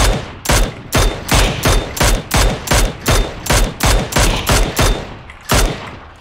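Sustained automatic gunfire in a video game: loud, close shots repeating in a steady rapid rhythm for several seconds, with one short pause near the end and no voices.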